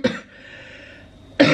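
A woman coughs twice close up, one short harsh burst at the start and another at the end, separated by a quiet pause.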